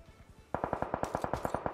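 Rapid automatic gunfire from a weapon in the mobile battle-royale game PUBG Mobile, starting with faint distant bursts and then a close, loud, evenly spaced string of about a dozen shots.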